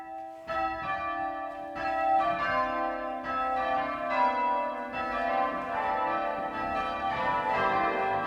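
Historic English church bells ring continuously in overlapping, resonant peals, a steady cascade of tolling tones with no voices.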